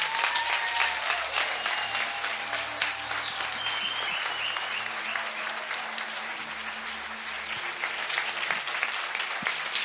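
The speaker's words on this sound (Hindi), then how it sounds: "ये कम ऑन, यीशु के लिए ताली बजाएंगे।" A church congregation applauds at length, dense sustained clapping from many hands that fills the room at a steady loud level with no voice over it.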